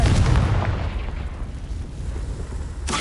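A Confringo spell explosion in Hogwarts Legacy, one heavy boom at the start that rolls off into a long fading rumble, with a second sharp burst right at the end.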